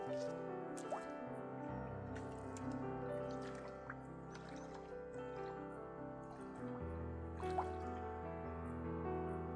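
A hand dips into cold lake water on an autumn day, giving soft drips, squishy sloshes and small splashes close by over a quiet background of steady sustained tones, with no talking.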